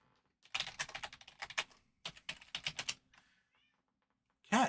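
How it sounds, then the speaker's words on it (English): A cat lets out one loud, close meow at the very end, after a run of clattering computer keyboard typing. "Cat, quit yelling at me."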